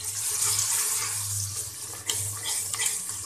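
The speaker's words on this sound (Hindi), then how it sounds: "अब थोड़ा सा मैं इसमें पानी का छींटा लगाऊंगी" Water splashed into a pan of chicken feet masala, heard as a steady running and trickling pour with a few small splashes near the end, close and fairly quiet.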